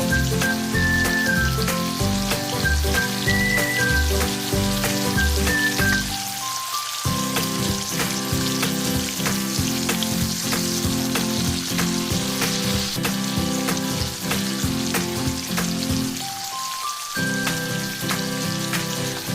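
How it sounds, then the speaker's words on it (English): Shrimps stir-fried with chopped ginger and garlic sizzle steadily in a hot pan, a dense crackling hiss that continues throughout, with a light background music track alongside. "Stir fry with chopped ginger and chopped garlic."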